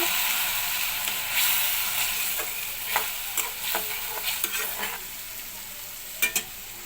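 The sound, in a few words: water added to fried onions in a pan, sizzling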